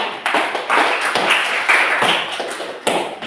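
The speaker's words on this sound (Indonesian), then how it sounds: "Oke, beri aplaus untuk Kakak Nisa" A classroom gives a student a short round of applause. Scattered hand claps ring out for several seconds, fairly loud and close.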